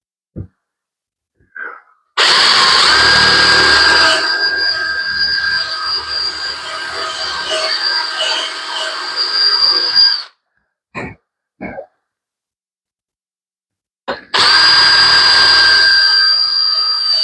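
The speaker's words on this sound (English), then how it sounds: "I'm gonna drill a hole in the center of this" A power drill drills a hole, running loud and near in one long steady whine of about eight seconds, then a few brief starts and a final burst, with quiet breathing in the gaps.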